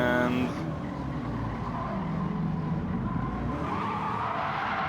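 Tires skid as a race car oversteers under too much throttle in Gran Turismo 7, a sustained screech over steady engine drone in a busy online league race, with a commentator's voice running underneath.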